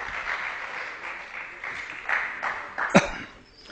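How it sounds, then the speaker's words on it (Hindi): Applause welcoming a revered guru at a Valmiki religious gathering, a soft, distant patter of clapping from the congregation with a few louder claps and a cough near the end. "जोरदार तालियों के साथ माननीय महाराज जी का स्वागत हो।"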